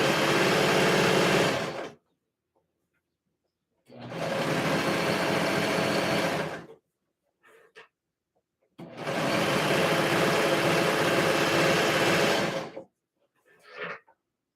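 A serger stitches the hem of a skort in three long, loud bursts of rapid whirring, each lasting a few seconds, with quiet pauses and small handling noises between runs.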